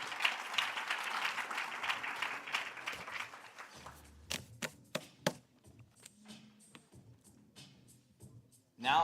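An audience at a school district sports awards ceremony applauds a swimming coach named Coach of the Year, full clapping for about four seconds that thins into scattered individual claps and then fades.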